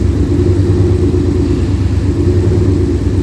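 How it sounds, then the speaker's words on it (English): The AC compressor of a 2007 Mustang GT with a Coyote engine swap runs as a loud, steady, low engine drone that holds even through the clip. "You can kind of hear the compressor right there where it dips."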